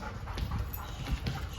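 A puppy pants and scrabbles about in a dog training room, quick breathy huffs and light paw movements heard close and fairly quiet, with no speech.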